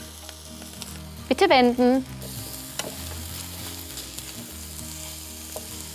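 Burger patty sizzling steadily in a frying pan, a constant crackling hiss throughout, briefly overlaid by a short electronic voice prompt and faint tonal beeps.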